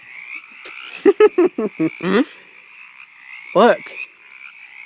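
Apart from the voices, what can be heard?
frog croaking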